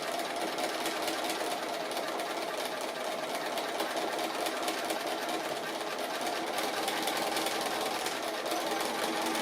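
A sewing machine runs in a fast, continuous mechanical whir while free-motion stitching a cat applique quilt, close and steady throughout.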